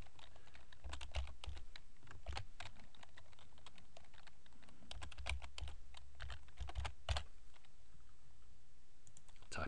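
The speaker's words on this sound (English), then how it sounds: "what we're going to do is type whatever we want in, type his name" Rapid typing on a computer keyboard, close and crisp clicks in uneven bursts with brief pauses, over a steady faint background hiss.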